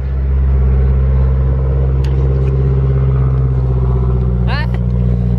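A Mazdaspeed 6 with an aftermarket catless downpipe and exhaust produces a loud, close, continuous deep engine rumble that holds steady throughout, with a brief higher chirp near the end.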